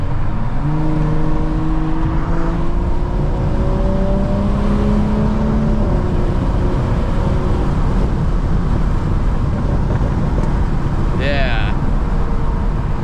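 A 500hp BMW 435i driving on open road, its loud exhaust droning steadily throughout with a deep rumble and rising tones as it accelerates, plus a brief sharper crackle near the end; someone talks over it.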